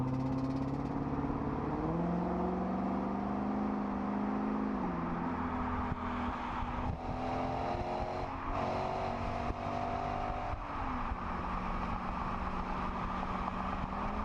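A 2016-2020 Lexus GS F sports car engine rumbles steadily, its exhaust note rising and falling as the revs shift, loud and close without any talking.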